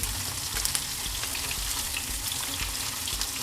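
Tofu and meatballs frying in a pan, a dense, even sizzle and crackle throughout with faint stirring sounds, close and steady.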